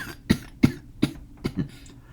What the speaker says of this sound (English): Sometimes I just get a coughing fit.